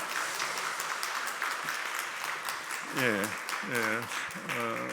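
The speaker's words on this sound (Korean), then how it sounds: "우리 박수로 환영하시겠습니다" A church congregation claps through a Sunday worship service to welcome a newly registered member, steady applause continuing while a speaker talks over it in the second half.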